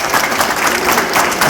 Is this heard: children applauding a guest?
yes